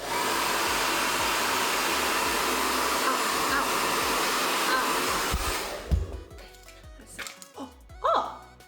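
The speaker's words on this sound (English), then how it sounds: "let's hit it with the hairdryer, see if that'll melt it" A hair dryer blows loudly and steadily at lip balm to melt it, then switches off, leaving quieter handling noises and a few faint voice sounds.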